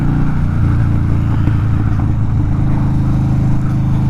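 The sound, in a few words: Harley-Davidson FXDL Dyna Low Rider motorcycle engine accelerating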